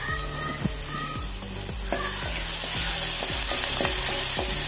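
Green chillies and salt being stirred in a hot pan, a loud continuous sizzle punctuated by regular, evenly spaced scrapes of the spoon, with the frying growing slightly louder toward the end.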